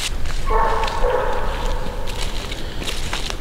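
Coonhound giving ground barks on a raccoon's trail during a night coon hunt near a ditch, one drawn-out bark in the distance, faint over steady outdoor background noise.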